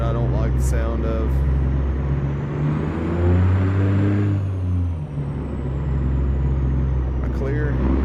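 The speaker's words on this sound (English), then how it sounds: "I don't think there is an 18-wheeler engine that I don't like the sound of." An 18-wheeler truck engine in American Truck Simulator drones low and steady, rising and falling in pitch as it pulls, while someone talks over it throughout.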